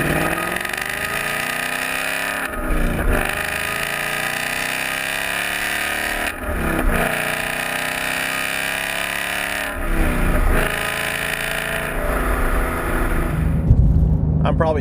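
A 2015-2017 Mustang GT with a Borla Atak cat-back exhaust revs on repeated downshifts, producing loud, deep engine bursts that rise and fall every few seconds while someone talks over them.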